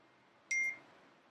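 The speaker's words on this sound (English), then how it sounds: "Sorry, my phone is going off." A smartphone notification chimes once, a short, clear electronic beep of two quick tones in an otherwise quiet room.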